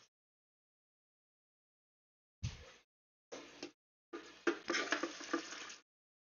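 Water is poured to top off a container beside a running sewer bypass setup, heard as three separate bursts of splashing and gurgling that grow longer, the last lasting over a second, close and fairly loud after a silent start.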